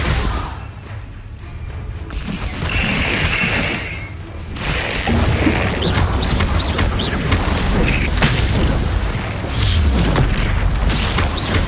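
Confringo blasting spell explosions in Hogwarts Legacy: several booming blasts and crashes over a steady rumble of battle noise, loud and close, with no talk.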